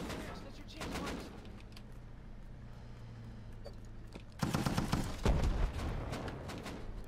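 Rapid bursts of video game gunfire crackle through the first second and then erupt densely from the midpoint onward, loud and close, under a steady low game drone.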